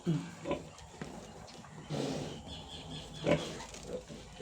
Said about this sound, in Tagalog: Tignan natin yung mga baboy ngayon.